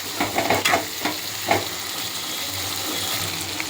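Onions and tomatoes are stirred in a frying pan for dal khichdi, heard as a run of spoon scrapes and clinks over a continuous soft sizzle, with the stirring fading out and no voices.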